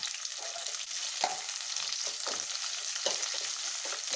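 Green chillies and onion frying in oil for a mushroom gravy, a soft even sizzle punctuated by a handful of brief stirring scrapes spaced through the stretch, fairly quiet and close, no talking.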